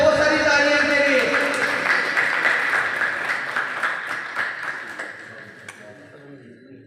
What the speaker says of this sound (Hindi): बहुत सारी तालियां इनके लिए